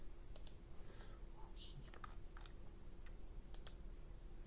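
Faint computer mouse clicks on a confirm button, a few sharp isolated ticks spread over a few seconds against a quiet, hissy room background.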